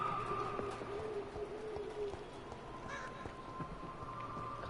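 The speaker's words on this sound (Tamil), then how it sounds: "காக்கா சத்தம் ராத்திரியில கேக்குது." Crow calls at night in the video game Vampyr, heard faintly as a few distant caws over a steady low ambient hum, with no voices.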